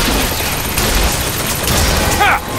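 Gunfire in BioShock Infinite during a firefight, a loud dense clatter of shots and impacts over busy game noise, with a voice briefly talking near the end.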